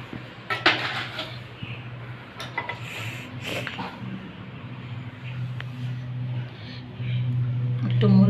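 Ginger-garlic paste, ground coriander, turmeric and chili being mixed in a metal pan for a fried egg and cabbage curry, with scattered scraping clinks of a utensil against the pan over a steady low background hum.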